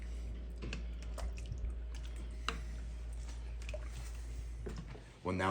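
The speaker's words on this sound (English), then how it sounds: "now it's coming up to a simmer" Water with beef bones coming up to a simmer in a pot for beef stock, giving faint bubbling and ticking drips over a steady low kitchen hum, with a brief louder knock near the end.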